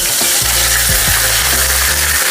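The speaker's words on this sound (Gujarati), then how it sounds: "રાઈ તતડી ગઈ છે એટલે એમાં આપણે" Mustard seeds popping in hot oil while tempering halwai-style khaman, a dense, steady sizzle and crackle with clicking pops and a few low knocks. The sound is close and loud throughout, with no talking.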